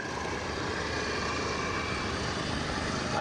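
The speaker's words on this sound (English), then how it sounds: "He's going to demonstrate the full characteristics of the PC-21 now with the max rate turn." A Pilatus PC-21 turboprop trainer flying a max rate turn in an airshow display at Wings Over The Illawarra 2022, heard as a steady, broad propeller-engine roar that is moderately distant and continuous, with no voices.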